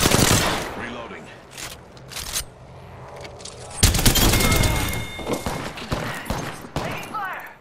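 Apex Legends gunfire, with dense bursts of automatic shots crackling in clusters, heavy thumps and a brief scrape. Voices talk over the shooting.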